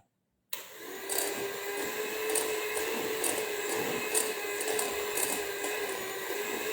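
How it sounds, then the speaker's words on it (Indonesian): An electric mixer starts abruptly and then runs at a steady high whine, whipping butter with powdered sugar, with faint rhythmic beater ticks throughout and no speech. "Ini kita kocok sampai dia creamy atau sampai warnanya pucat si butternya"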